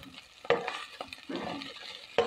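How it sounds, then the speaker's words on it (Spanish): Food frying and being stirred in a pan for adobo beans with chorizo: soft sizzling under repeated scraping strokes of a utensil, with a few louder clacks against the pan. Nobody speaks. "Vamos a freír bien, bien."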